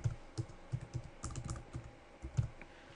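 A password being typed on a computer keyboard, with soft, irregular key clicks in short clusters and small pauses, close and fairly quiet.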